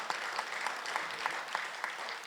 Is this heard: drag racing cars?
no